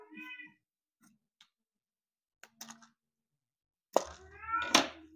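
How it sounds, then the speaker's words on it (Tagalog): A cat meows several times, close by, with short quiet gaps and a few soft clicks between the cries. "Napakaingay ng pusa ko."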